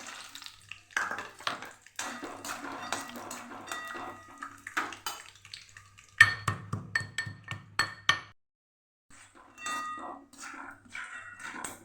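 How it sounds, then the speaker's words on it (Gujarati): Oil crackles and pops steadily as peanuts fry, with scattered sharp clicks and a brief pause partway through. "તેલ ગરમ થઈ ગયું છે તો એમાં આપણે માંડવીના બી લીધેલા એને આપણે તળી લેવાના છે"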